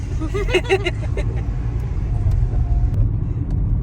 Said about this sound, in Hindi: देखो दोस्तों, मेरे को कितना आरपीएम लगाना पड़ रहा है, कितना थ्रोटल देना पड़ रहा है कि उठ सके।